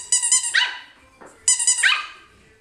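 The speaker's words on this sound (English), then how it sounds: "You meet another dog and it barks too." A dog gives two sharp, close barks about a second apart, each a bright bark-yelp followed by a short growl-like tail, loud and alone.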